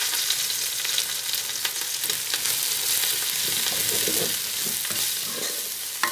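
Steady, close sizzle of chopped ingredients sautéing in a pan, with scraping stirs breaking through at irregular moments across the whole stretch, no voices.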